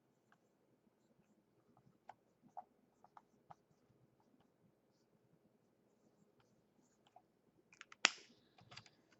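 A pen scratches and taps in short, scattered strokes while someone draws a cubic trinomial by hand, quiet and close, ending in a brief louder rustle.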